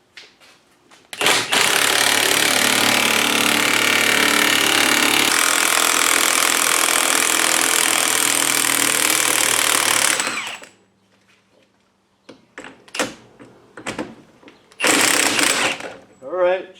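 Front wheel bearing on a Ford Focus being driven out with a press tool using a 32mm socket and adjustable wrench, a loud continuous grinding mechanical drone lasting about nine seconds, then scattered short clanks and a brief burst of noise near the end.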